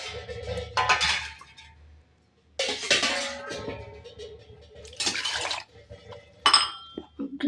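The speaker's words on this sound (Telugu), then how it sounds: "ఇందులో కొద్దిగా నీళ్ళు పోసి తిప్పుతాను" Water is poured into a pot of mint pulao and stirred, heard as separate bursts of splashing pouring with clinks of a utensil against the pot and quiet pauses between.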